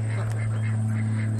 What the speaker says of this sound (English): they're yelling at me because I woke them up from their little cat nap, so to speak. These are khaki campbell ducks